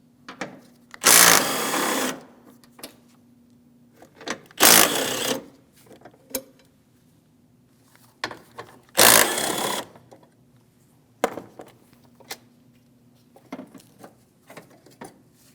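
Ratchet loosening the three 13mm crossbar mounting bolts on a 2015-2020 Cadillac Escalade near the battery: several loud bursts of rapid ratcheting clicks separated by pauses and faint handling noises, close by with no talking.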